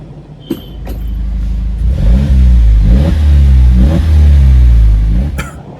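A 2021 Jeep Wrangler fitted with a Borla S-type exhaust revs several times, rising and falling engine notes in quick succession, loud and close, with a few clicks at the start and end.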